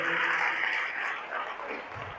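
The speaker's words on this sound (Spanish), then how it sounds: "dale un fuerte aplauso al Rey de Reyes" A church congregation applauding, a dense, steady wash of clapping that holds loud and then slowly thins.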